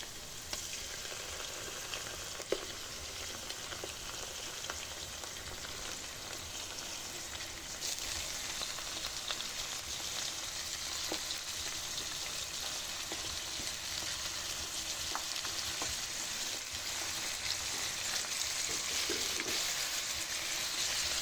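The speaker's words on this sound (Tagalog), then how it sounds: "tapos ilalagay na natin yung chicken" Chicken frying in a pot for tinola, a steady close hiss and sizzle of hot oil with occasional small pops and clinks, running continuously and growing slightly louder, with no voices.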